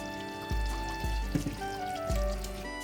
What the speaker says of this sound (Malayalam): അതിന് വേണ്ടിയിട്ട് കുറച്ച് വെളിച്ചെണ്ണ ഒഴിക്കാം